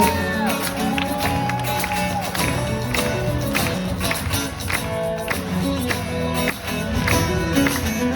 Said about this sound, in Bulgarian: Аплодисменти за това прекрасно момче.